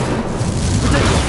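An Incendio fire spell blasts in Hogwarts Legacy, a loud, steady roaring whoosh with heavy low rumble that fills the whole short moment without a break.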